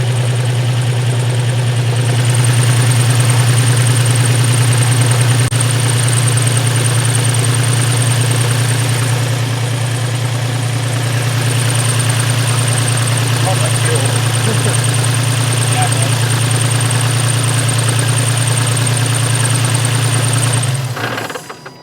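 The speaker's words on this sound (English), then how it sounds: "Misfiring." Nissan 350Z engine idling rough and misfiring while running rich, a loud steady close drone with uneven knocking pulses that holds for about twenty seconds before cutting off abruptly at the end.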